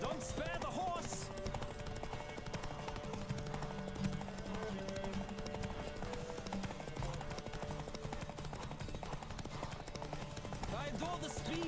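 A horse gallops during a race in The Witcher 3: Wild Hunt, a steady rapid hoofbeat rhythm held under dense, layered background sound throughout.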